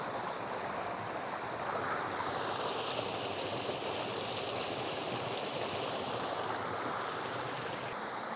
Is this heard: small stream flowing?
yes